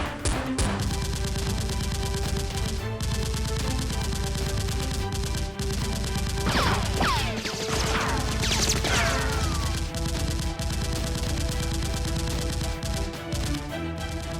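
Rapid bursts of Nerf blaster fire crackle through a staged battle, dense repeated shots layered over a steady background with a few sharp sweeping sounds in the middle, and no talk.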